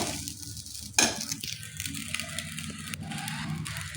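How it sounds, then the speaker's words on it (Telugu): Egg rice with onion, green chili and curry leaves is stirred in a pan: a quiet sizzle under soft scraping, with one sharp metallic clink near the start and a few lighter knocks after it. "నేను వేసుకొని అన్నీ మళ్ళీ కలుపుకుంటున్నాను బాగా."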